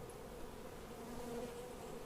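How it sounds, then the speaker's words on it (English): A colony of honey bees pours out of a rotten tree, making a steady, faint, even swarm hum with no talking. "So now the bees are really starting to pour out."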